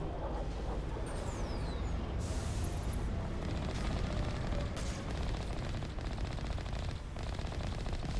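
Sustained enemy gunfire in Mass Effect Legendary Edition on Insanity difficulty, dense rapid automatic shots and blasts filling the scene at constant loudness, with no speech.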